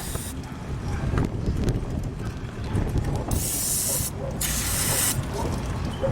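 Aerosol spray hisses in several loud, close bursts onto the alternator bracket of a 1997 Honda Civic engine during a partial rebuild, separated by short pauses filled with faint handling noise.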